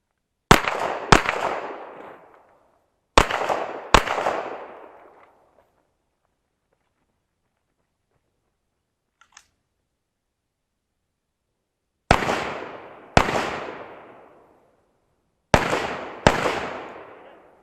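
Loud, sharp gunshots ring out in pairs during a timed shooting course of fire at a Canadian range, each crack trailing off with echo, separated by pauses of a couple of seconds and one long quiet gap.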